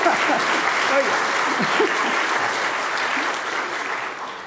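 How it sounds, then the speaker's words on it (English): An audience claps at a Writers of the Future book release event, a dense burst of applause that tapers slightly, with a voice briefly calling out over it. "clap for Eric"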